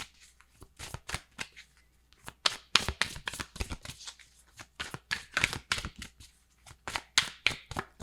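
Tarot cards being shuffled by hand, a close series of quick riffling bursts and soft slaps that come in uneven clusters, moderately quiet and with no talking.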